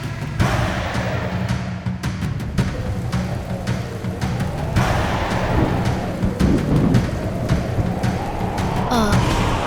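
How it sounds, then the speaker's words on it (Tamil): Heavy rain with strong gusting wind sweeps across a tea estate, a dense continuous roar with surging swells and low rumbling thuds, loud and close throughout. "நீங்க இருக்கிற இடத்துல மழை பெஞ்சு காத்து அதிகமா அடிக்குதா?"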